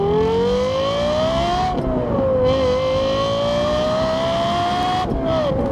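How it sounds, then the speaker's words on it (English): Lexus LFA sports car engine pulling steadily under way, a loud, continuous rising whine with a brief dip around a gear change and another near the end, heard close from inside the car without talk. "What it's like to drive an LFA first person view."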